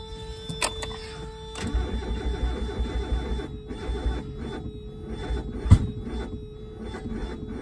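A Mazda Miata engine cranks over roughly as it tries to start, a loud, close, uneven churning with a few sharp clanks and no talking.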